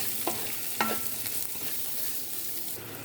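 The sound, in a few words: beans stir-frying with salt and turmeric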